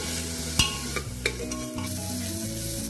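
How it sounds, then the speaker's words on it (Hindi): Carrots and green peas sauté in a pan for dalia pulao, a close steady sizzle with several sharp spoon scrapes and taps as the vegetables are stirred. "दो टेबलस्पून हम गाजर डालेंगे और दो टेबलस्पून हम हरे मटर डालेंगे। थोड़ा इनको भून लेंगे।"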